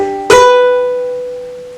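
A single ukulele note or strum rings out crisp and clear, with bright harmonics, then decays slowly with nothing else sounding.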